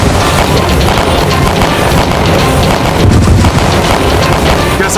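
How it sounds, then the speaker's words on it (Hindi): Loud, dense gunfire and booming blasts roar continuously, a heavy barrage of shots with rumbling low-end and no clear pauses. "अपने सिपाहियों पर गोलियां बरसा रहा है।"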